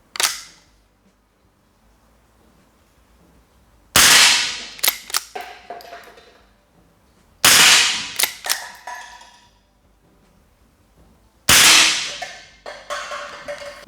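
A Rossi pump-action air rifle fires three loud, sharp cracks spaced a few seconds apart, each followed by quick mechanical clicks and clacks of pumping and reloading, with quiet pauses between.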